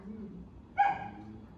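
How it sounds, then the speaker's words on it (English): A young dog gives one short, muffled half bark, a single clipped yelp indoors, fairly close but quiet, over a low room hum. "That was like a half bark."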